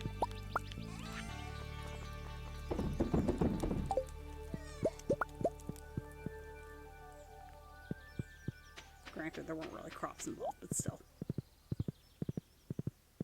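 A small horse's hooves clip-clop on the ground in the farming game Stardew Valley, a sparse run of light knocks and taps alongside bright game music, with a person talking over part of it.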